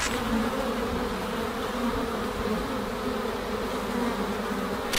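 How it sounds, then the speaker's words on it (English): A massive swarm of more than 637,000 bees covering a man's body makes a loud, dense, continuous buzzing drone that stays constant throughout, close and unbroken with no voices. "he was absolutely overflowing with the flying insects, as he was completely covered in them"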